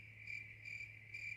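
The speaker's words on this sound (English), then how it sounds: "there's my crickets. I can stop those" Steady electronic-sounding cricket chirps, a continuous shrill trill with faint pulsing bursts, loud and alone with no voices, a short sound effect of crickets.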